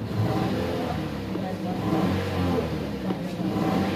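The engine of a 2017 Toyota Corolla with its check-engine light on idles unevenly and misfires, making a continuous, rough, uneven rumble heard up close with no talking.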